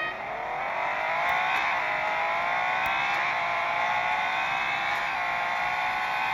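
An Aston Martin Valkyrie accelerates hard off a drag race start, its engine a loud, sustained high-pitched whine climbing steadily through gears with brief dips at shifts.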